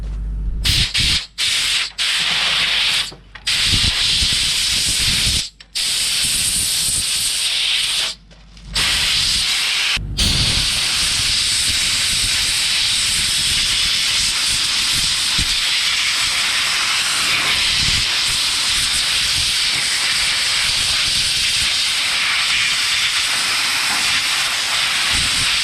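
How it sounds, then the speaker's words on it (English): Compressed air from a big portable air compressor blasts through a blower nozzle, cleaning a dozer blade. It is a loud, continuous hiss, broken by a few short pauses early on, then steady to the end. "it's an air blower off a big portable air compressor"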